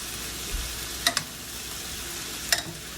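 A steak in a pan, basted with its own pan gravies, gives a steady close sizzle and fry hiss, broken by a few brief sharp spoon clinks against the pan.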